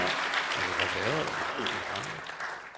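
Church congregation clapping in thanks during a Sunday worship service, a steady wash of applause with a voice speaking over it throughout.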